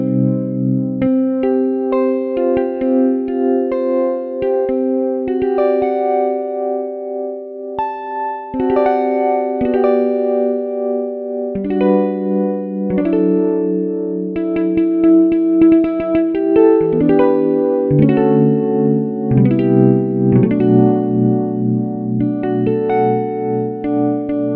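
A 1965 Mello D Maker guitar played through a tremolo effect, melodic sustained notes and chords with a pulsing, wavering volume, clear and close with no talking.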